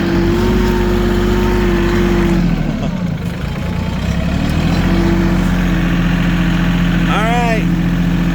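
Tractor engine labouring in low gear with the differential locked while stuck in mud, a steady low drone that dips and strains briefly midway before settling back, with a short squeal near the end.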